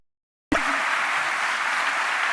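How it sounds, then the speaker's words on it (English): Applause from a conference audience after a talk begins abruptly and continues as a steady, dense wash of clapping. "A big round of applause, please,"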